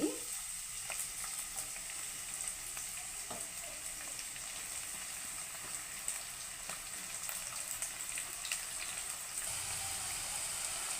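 Shahjeera, curry leaves and onion fry in oil in a pan for a paneer and mushroom curry, giving a steady, quiet sizzle with faint crackles and a few stirring scrapes throughout.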